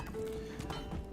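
Hooves of a horse clip-clop in a medieval village game, a short, fairly faint burst of soft thuds with a thin tonal whine running under them.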